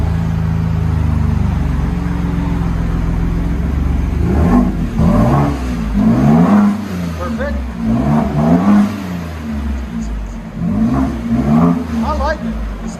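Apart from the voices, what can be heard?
Ford F-150 3.5L Ecoboost with Carven dual exhaust revving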